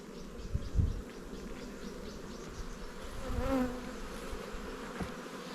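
Honey bees hum steadily around an open hive whose frames are filling with wet spring nectar, a close, continuous buzzing with a few louder passes as individual bees fly near.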